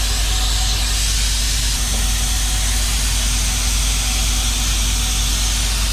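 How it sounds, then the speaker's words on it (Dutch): Air hissing from a leaking air bellows on a truck: a loud, continuous broadband hiss over a steady low engine-like rumble, unbroken for the whole stretch, with no talking. "Ik hoor wel wat sissen, maar ik zie het niet."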